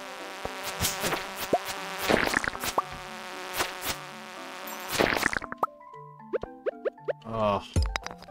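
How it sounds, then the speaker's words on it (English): Insect-like buzzing from a Stardew Valley game session, mixed with plops and chirpy game effects, with a quieter stretch of tonal blips toward the end and no talking. "It's the buzzing noise that's irritating me."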